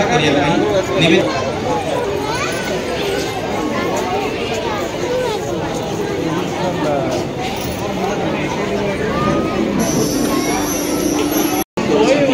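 A large crowd chatters and murmurs without pause inside a town hall at an Independence Day gathering, forming a dense, continuous babble of many voices.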